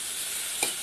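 Onion and capsicum sauté in a hot pan, giving a steady, close sizzle with a brief stir or scrape near the end of the short burst.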